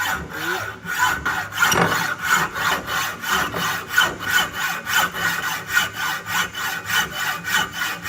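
A hand saw rasps through wood in steady back-and-forth strokes, roughly two per second, close and clear with no voices.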